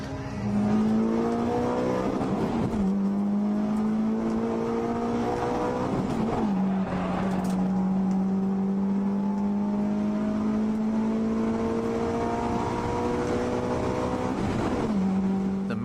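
A tuned Mitsubishi Lancer Evolution 7, 8 or 9 drifts around a track, its engine holding a loud sustained drone that rises steadily, drops briefly at each shift or lift, and carries tire noise.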